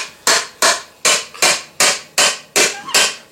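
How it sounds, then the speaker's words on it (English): Eight sharp, evenly spaced hammer blows ring out close and loud as furniture-grade Formufit PVC elbows are driven onto pipe to seat them, each strike decaying quickly before the next. "take your hammer and beat the crap out of it so they're all seated."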